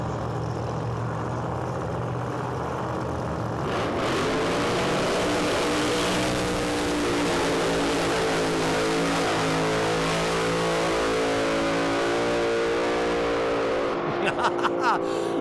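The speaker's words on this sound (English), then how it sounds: "Let's watch them go through their burnout procedure." Drag race cars idle, then their engines rev hard and hold through a long burnout at a racetrack, loud and sustained, with a sharp crackle near the end.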